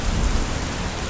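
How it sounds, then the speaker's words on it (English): A fierce storm with strong winds and lashing rain makes a loud, steady wash of broadband noise with a heavy low rumble, unbroken throughout. "One night, a terrible storm ripped through the Little Western, bringing fierce winds and lashing rain, which made Duck, Oliver"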